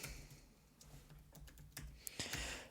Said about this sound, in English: So let's type in moving platform,